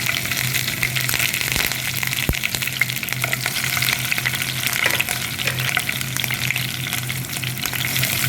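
Steady, close sizzling of green chilies frying in hot oil, with a constant crackle and hiss throughout and no voices.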